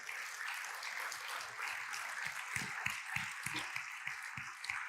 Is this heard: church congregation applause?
yes